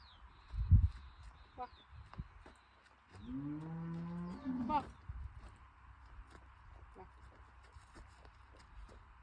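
A cow gives a long, drawn-out moo nearby, preceded by a short low grunt, with quiet rustling and shuffling around it.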